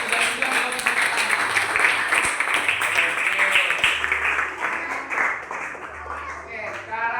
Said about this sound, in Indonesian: Kalau kamu suka pembelajaran hari ini, kamu tepuk tangan.